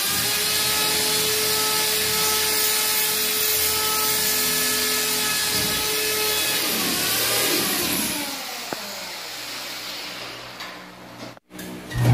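A power drill runs steadily with a sustained high whine as it bores into a ceiling during a light-fixture repair, then winds down with scraping and a few knocks near the end, no one speaking.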